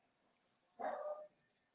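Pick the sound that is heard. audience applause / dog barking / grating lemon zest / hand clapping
dog barking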